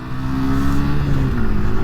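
A 2023 Yamaha MT125 or R125 motorcycle engine drones loudly and close by, holding a steady, even pitch with no voices present.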